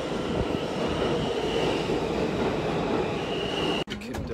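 A passenger train arrives at a station with a loud, continuous rumble of wheels on rails and a faint squeal, close by. The noise cuts off sharply near the end.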